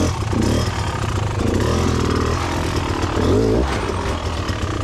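Enduro motorcycle engine revving hard and continuously while trying to climb slippery off-camber logs on a trail, loud and close with rising and falling throttle surges.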